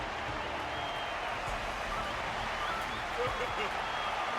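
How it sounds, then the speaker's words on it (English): A dense, steady roar of a cheering and clapping crowd fills an arena during a fighting match in the video game Honkai: Star Rail, holding at an even level with no pauses. "Their constant applause is a salute to this resilient Belabogian fighter."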